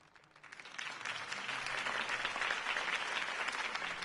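Applause from a crowd swells up from quiet and holds steady, many hands clapping together at a moderate distance.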